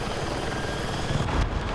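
Helicopter flying in Battlefield 6, a dense continuous rotor roar with broadband rumble and whoosh, loud and close throughout with a slight swell near the end.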